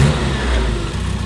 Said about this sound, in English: So these have got a bit of a lumpy cam in them, so you'll never get it dead smooth on idle.